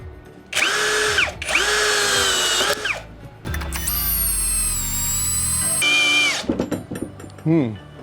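A GRAND DA 202 DFR cordless screwdriver drives an 8x200 screw, whining loud in two short bursts and then in one long, labouring run that slows under load, with brief clicks and a voice near the end.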